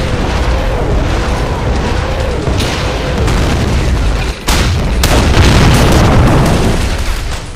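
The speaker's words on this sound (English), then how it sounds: "So another barrage coming up." An artillery barrage thunders in the World War II strategy game Men of War: Barbarossa, with a dense rolling series of loud booms and blasts, a sharp impact near the middle and continuous heavy rumble, and no voices.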